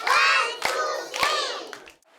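A group of children clapping in unison, three sharp, loud claps spaced roughly half a second apart, with young voices chattering around them.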